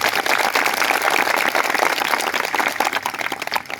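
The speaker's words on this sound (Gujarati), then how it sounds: "બધા માટે એકવાર આપણે જોરદાર તાળીઓ પાડી લઈએ" Crowd at a political rally in a tribal community clapping loudly, a dense, continuous wash of applause lasting a few seconds, close and steady before easing slightly at the end.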